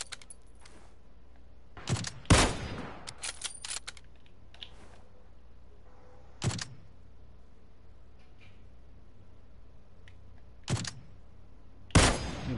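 Gunfire in a shooting video game, several sharp isolated shots spaced seconds apart at moderate loudness over a quiet background, with some clicking between them.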